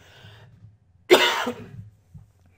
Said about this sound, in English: Excuse me, I feel a cough coming on.